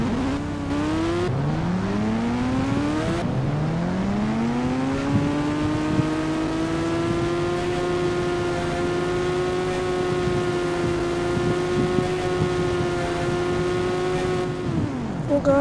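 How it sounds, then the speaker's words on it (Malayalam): Ghost bike engine in the mobile game Indian Bike Driving 3D, a steady loud synthetic whine that climbs in pitch twice as it speeds up, then holds a high sustained tone before dropping off at the end. "ഗോസ്റ്റ് ബൈക്ക് നല്ല സ്പീഡുണ്ട്."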